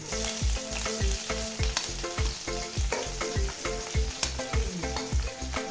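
Chopped onion hits hot oil with bay leaves for a pumpkin and coriander stir-fry, giving a loud, steady sizzle broken by rhythmic scraping and stirring strokes close by, with no voices.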